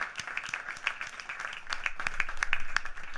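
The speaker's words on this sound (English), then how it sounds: "give them a round of applause." Steady applause from a crowd at a jazz concert, many hands clapping continuously and fairly faint, as if heard from across a room.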